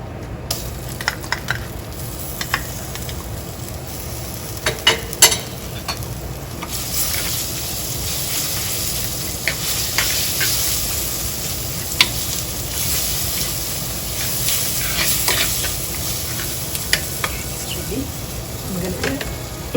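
Eggplant moju mix fries in a pan while being stirred, a loud, steady sizzle broken by scraping stirs and sharp clatters of a utensil against the pan, close up.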